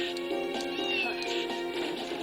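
A cat meows in the video game Castlevania: Order of Ecclesia, a short mewing call over steady game music, clear and close for about two seconds.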